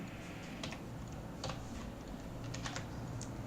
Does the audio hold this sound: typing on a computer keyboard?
yes